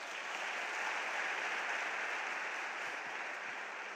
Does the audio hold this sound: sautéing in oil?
no